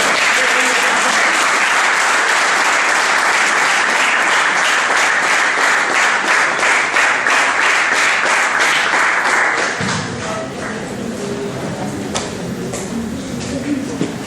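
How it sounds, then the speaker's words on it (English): A university audience at a tribute event gives loud, sustained applause for the Vice Chancellor, which thins out near the end as a voice begins speaking. "please give a huge round of applause for our Vice Chancellor."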